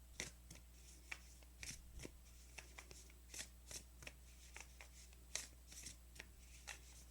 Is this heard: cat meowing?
no